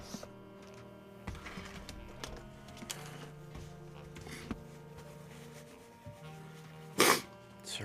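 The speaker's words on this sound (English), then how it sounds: "Sorry for the sneeze." One short, sharp sneeze bursts out near the end, close by, over quiet scraping and rubbing sounds of acrylic painting handwork.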